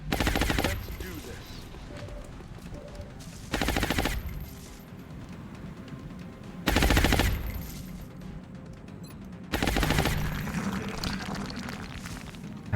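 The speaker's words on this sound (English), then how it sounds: "Heavy fire. That's a big gun." Heavy bursts of big-gun fire from Long War sound in four loud, roughly evenly spaced volleys, each lasting about a second, over quieter game ambience.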